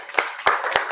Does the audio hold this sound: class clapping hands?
yes